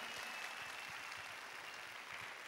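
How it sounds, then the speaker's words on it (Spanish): A church congregation claps strongly in praise, a soft but continuous wash of applause from a crowd heard at a distance. "Denle un aplauso fuerte"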